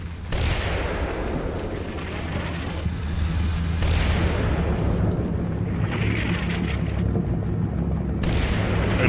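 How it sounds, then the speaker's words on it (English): Artillery fire for effect in the Combat Mission wargame produces deep, rumbling booms and blasts, with several heavy impacts arriving in succession and long rolling tails between them. "that's why I called in artillery on there. And I think we're close to getting a fire for effect here."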